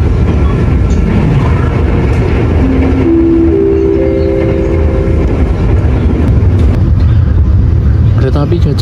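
The Gajah Wong passenger train in Indonesia rumbles loudly nearby as it pulls into Wates station, with a sustained horn tone sounding midway over the heavy mechanical roar.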